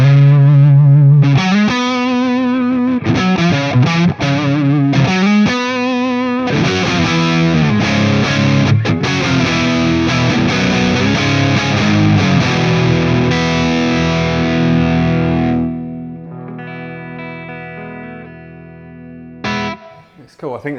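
A Fender Player Series electric guitar played through heavy distortion, loud chugging chords and riffs that ring out and fade near the end, close and alone without talk.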